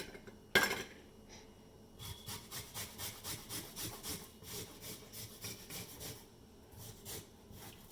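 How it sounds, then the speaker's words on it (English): Three garlic cloves, two large and one small, are grated for Punjabi chole, giving a steady run of rhythmic rasping scrapes after a sharp knock at the start, close and moderately loud with no talking. "now I'm going to grate garlic cloves, and I'm using 3 garlic cloves"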